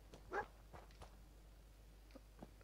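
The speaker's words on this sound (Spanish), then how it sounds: "El perro ha encontrado algo." A dog in Fallout 4 gives one short bark, followed by faint scattered yips and footstep-like taps, quiet and somewhat distant.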